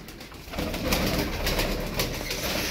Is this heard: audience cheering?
no